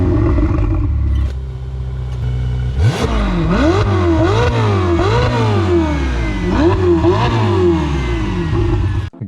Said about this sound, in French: on retrouve ce bruit aigu propre au Ferrari dans les tours.